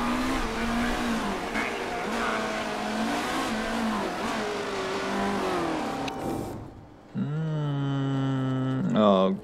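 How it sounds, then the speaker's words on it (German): A race car in the Motorsport Manager video game drives a lap, its engine whining and shifting through gears with tire squeal, then a short gap before another loud car accelerates past; no speech is heard. "So, mal sehen, ob Leo noch eine Runde fahren kann"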